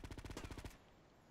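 Rapid burst of automatic gunfire in Grand Theft Auto: Liberty City Stories, about nine quick evenly spaced shots cutting off abruptly, quiet and brief.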